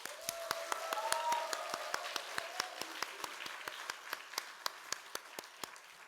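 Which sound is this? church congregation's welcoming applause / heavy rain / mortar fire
church congregation's welcoming applause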